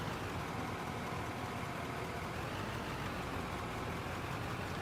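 A steady idling loader engine in the mining game Out of Ore, a dense continuous low rumble with broadband noise and no change in pace, heard alone.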